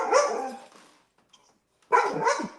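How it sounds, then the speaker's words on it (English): A dog at a football team's mini-camp practice gives two clear barks, one at the start and one near the end, separated by a short quiet gap. "Woof. And woof. Look at this dog."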